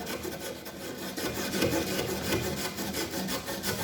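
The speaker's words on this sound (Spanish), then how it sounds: "Antes de cortar cualquier tubería hay que lijarlo." Refrigerator tubing being sanded before cutting, a steady close rasping scrape in quick repeated strokes.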